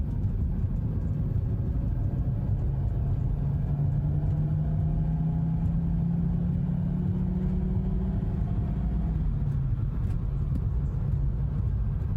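Car engine heard from inside during a drive, a steady loud cabin rumble with the engine note rising and then dropping as gears shift, with no talking.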